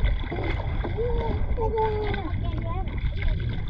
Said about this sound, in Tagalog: hindi tayo magpapandar ng makina. So gumamit lang tayo ng bugsay